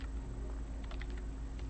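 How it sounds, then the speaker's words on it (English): Keys tapped on a computer keyboard in a short run of quick, irregular clicks, close and moderately quiet over a steady low hum, no voices. "I am just pressing keys."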